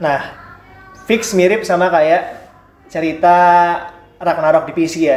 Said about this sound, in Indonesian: Ada kucing lewat barusan.